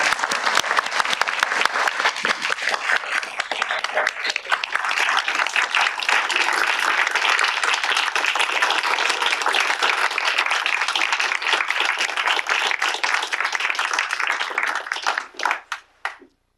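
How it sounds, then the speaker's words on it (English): Steady applause from a board meeting audience, dense clapping sustained throughout at even loudness before tapering off abruptly at the end. "So let's all give them a round of applause."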